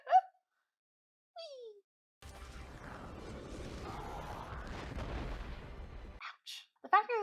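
Explosions from the animated film How to Train Your Dragon 2 roar as a broad, rumbling blast lasting several seconds, framed by brief voices and gasps from viewers before and after.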